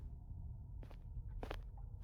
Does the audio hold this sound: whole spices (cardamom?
no